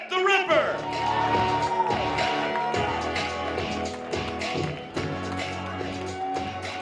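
A crowd at a boxing weigh-in breaks into applause and whoops, a dense wash of clapping with scattered shouts that stays loud throughout, with a brief voice near the start.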